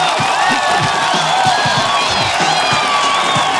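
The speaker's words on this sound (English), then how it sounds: "Let's have a round of applause." Audience at a live recording of The Learning Hack podcast clapping and cheering loudly, with whoops and scattered shouts over a continuous wash of applause, and voices calling out throughout.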